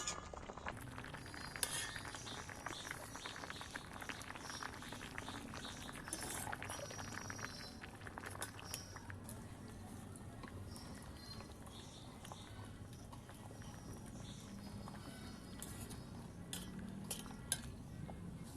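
Boiled potatoes and cabbage are drained and lifted out of a cooking pot, with close, steady metallic clinks and scrapes of a utensil against the pot over a running wash of water and bubbling, and no talking.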